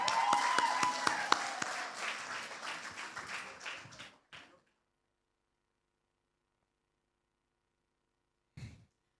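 A burst of audience clapping that fades over about four seconds, followed by a short final clap, then silence and a brief soft noise.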